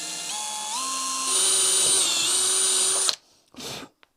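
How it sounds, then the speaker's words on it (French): Power drill redrilling with a wood bit during car repairs, a loud, close whine that steps up in pitch as it runs for about three seconds, then stops, followed by a short second burst. "je vais repercer avec une mèche à bois."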